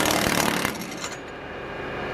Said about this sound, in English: let's see if my little DeWalt impact there can pull this off